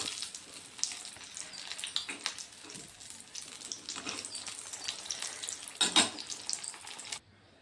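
Banana flower chops deep frying in hot oil give a steady, close crackling sizzle throughout, with a few louder bursts and a brief clatter near the end before it cuts off.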